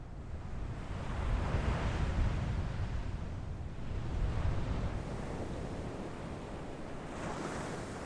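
Ocean surf rolling onto the Valdes Peninsula coast in Patagonia, a steady broad wash with swells building and easing every few seconds, joined by some wind rumble and no voices.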